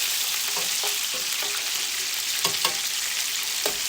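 Thin, seedless lemon slices sear in a hot pan with a bright, steady sizzle. Occasional crackles and light utensil taps sound close by, with no voices.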